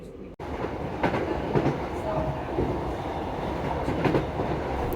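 Inside a rumbling Class 150 diesel train carriage with windows open, loud and constant, with the rhythmic clatter of wheels over rail joints and a brief squeal.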